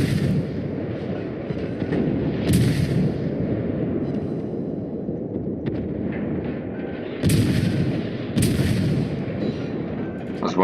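Naval guns in the World of Warships game boom in several heavy blasts, each cutting through a steady low rumble of battle noise, with loud reports near the start and two more close together toward the end.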